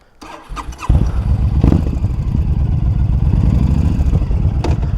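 A 2020 Honda Fury motorcycle engine turns over and settles into a loud, steady close-up idle with a rumbling, uneven beat that carries on without a break.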